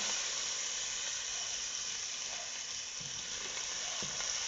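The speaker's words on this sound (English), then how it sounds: "I'm going to give that a quick stir" Onions and rough salt in broth are stirred in a pot in an Indian home kitchen, giving a steady close sizzle and hiss with faint scraping, and no voices.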